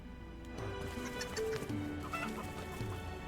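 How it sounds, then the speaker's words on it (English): Chicken clucking in the Final Fantasy 16 video game, a string of short, close clucks and squawks rising over a low game ambience, with faint hoof-like clip-clop underneath. "Oh, this chicken won't let me walk."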